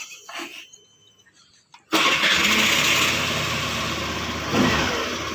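A Suzuki Avenis scooter engine cranks and catches after a quiet pause, then settles into a steady close idle hum that stays loud to the end.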